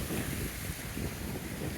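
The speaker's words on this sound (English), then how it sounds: "Right here, as you can see, it's a windy day here." Strong wind and choppy waves on the Chesapeake Bay near the Bay Bridge, a steady loud roar of gusts buffeting the microphone over lapping water, with no voices.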